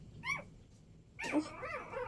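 A small newborn puppy gives two short, high-pitched yips, a brief one and then a longer, squeakier volley, close by with no talking.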